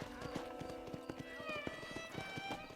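A horse's hooves clatter in a brisk, even rhythm in the Red Dead Redemption video game, with whinnying tones rising over the close hoofbeats.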